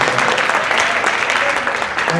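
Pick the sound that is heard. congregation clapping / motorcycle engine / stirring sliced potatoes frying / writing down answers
congregation clapping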